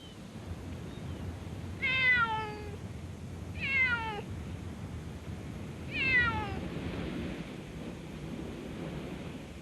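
Two stray cats living in a seaside jetty near Oxnard, California meow three times, each a clear drawn-out cry spaced a couple of seconds apart, over a steady wash of ocean surf.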